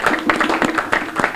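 An outdoor crowd at a community week kickoff event claps in a dense, steady patter of applause filling the whole moment.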